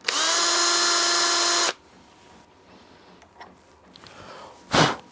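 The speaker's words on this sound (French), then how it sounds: "Donc je vais maintenant percer pour savoir où placer mes vis" Power drill boring screw pilot holes in wood, one loud steady whine lasting under two seconds before stopping, followed by quiet handling noises and a brief sharp sniff-like burst near the end.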